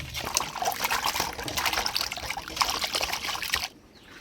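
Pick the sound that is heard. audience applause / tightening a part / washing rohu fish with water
washing rohu fish with water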